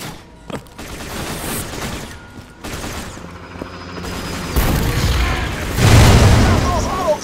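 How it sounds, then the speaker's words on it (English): Auto cannons fire in the video game Borderlands 2, rapid bursts of booming gunfire and explosions building in loudness, mixed with voices speaking. "Stop those auto cannons, Slab!"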